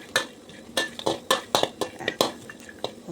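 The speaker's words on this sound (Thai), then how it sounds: "เราก็ผัดให้เขาได้ประมาณนี้นะคะคั่วเขาได้ประมาณนี้" Herbs for tom yum being dry-roasted and stirred in a pan, with a series of sharp scraping clanks from a utensil against the pan at an uneven rhythm, close and fairly quiet.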